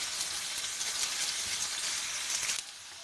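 Onion frying in hot oil in a pan while karela pyaz is cooked, a soft, even hiss of sizzling that runs steadily and fades a little near the end.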